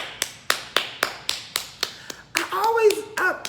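A run of about nine sharp, evenly spaced hand claps imitating a reviewer's distinctive sideways clap, each crisp and close, followed by a person talking.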